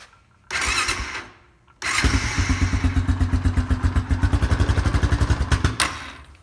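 A cold Honda Foreman 450 ATV cranks briefly, pauses, then fires and settles into a loud, close, steady thumping idle for several seconds before shutting off.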